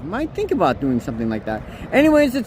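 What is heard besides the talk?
No everyday noise stands out behind the speech.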